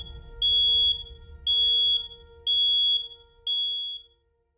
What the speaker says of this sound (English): If the critical limit is reached, the leak detector triggers an alarm.